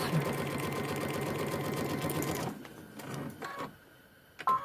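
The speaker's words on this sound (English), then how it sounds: "keeping my eye on each next line as I'm sewing" Sewing machine stitching along drawn lines on a paper-pieced prairie point trivet, a steady rapid mechanical whir for about two and a half seconds, then stopping, followed by faint clicks and handling noises.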